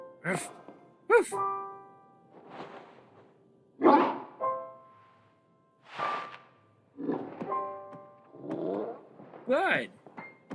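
A voice imitates a dog barking, giving a series of short gruff woofs and ruffs spaced across the stretch, loud and close, during a Pokémon Violet game session.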